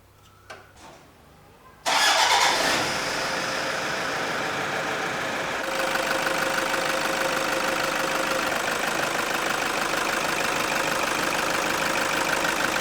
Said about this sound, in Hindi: इसको पैक करके और इंजन को स्टार्ट करना पड़ेगा।